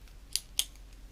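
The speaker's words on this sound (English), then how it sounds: "We're going to cut a hole in this somewhere." Scissors snip twice into a slick quilting mat used for free motion quilting, two sharp, close cuts about a quarter second apart over a faint background, with no talking.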